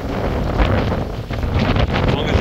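Strong wind buffets the microphone outdoors at a fishing lake in Norfolk, UK, a loud, continuous rushing roar with gusty swells that swamps any other sound.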